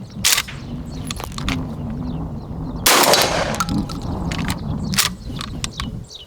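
A Benelli M3 dual-mode shotgun being broken in fires loud, sharp reports, one of them a longer roaring blast. Smaller clicks and clatter from handling the action fill the gaps between shots.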